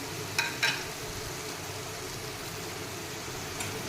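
Spices, ground cumin, coriander, chilli and pepper with a handful of peas frying in a pan for magur fish curry, a steady soft sizzle with a few brief clinks of stirring near the start.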